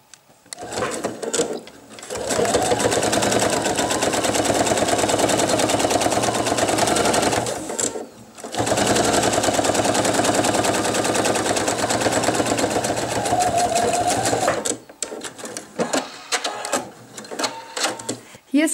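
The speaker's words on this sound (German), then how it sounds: "nähe ich jetzt einfach nochmal genau auf der Naht nochmal mit meinem Jeansfaden entlang" Sewing machine stitching a leather-style wallet seam with jeans thread, a loud, rapid mechanical chatter running in long continuous bursts with short pauses between them.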